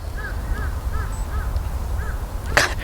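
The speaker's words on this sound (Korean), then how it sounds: "까마귀 지나요." A crow caws repeatedly as it flies past an orchard during winter fruit-tree pruning, about five or six evenly spaced calls at moderate distance over low background rumble, followed by a brief rustling burst near the end.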